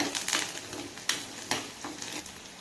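Onions sauté in a clay pot for Chettinad mutton chukka, with soft, steady scraping stirs and a few sharper knocks of the spoon over a faint background sizzle.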